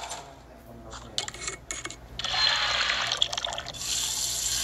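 Water pouring in the Toca Kitchen 2 cooking game, a bright hissing stream that starts in short bursts and then runs steadily, fairly loud, with no talking over it.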